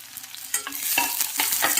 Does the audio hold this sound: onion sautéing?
yes